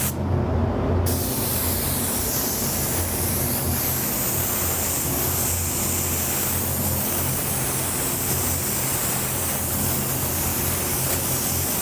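A spray gun lays a candy green paint coat onto a car part, giving a continuous loud, even hiss of atomized paint that runs steadily without a break, close to the microphone with no talk.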